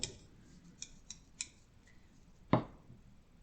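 Scissors snip a curve into potholder fabric: a few soft, sparse clicks, then one sharper, louder cut, all close up in a quiet room.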